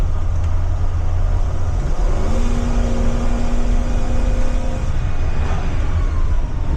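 Engine of a 2027 Blue Bird Vision school bus with a 7.3 motor running, a loud steady low rumble close by with a faint tone rising briefly in the middle, no voices.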